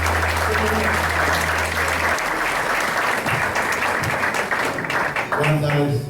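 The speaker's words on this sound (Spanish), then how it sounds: "Un fuerte aplauso, por favor." Sustained, loud applause from a seated audience at an insurance-industry conference in Spanish, welcoming a doctor to the stage; dense continuous clapping with a low hum under the first two seconds.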